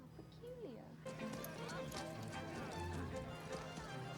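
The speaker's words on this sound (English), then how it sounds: "Oh, it's horses." Horses clip-clopping in a period drama scene, a steady patter of hooves under a music bed with voices talking over it.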